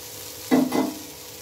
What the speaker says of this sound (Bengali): উল্টে পাল্টে এইভাবে ভেজে নিতে হবে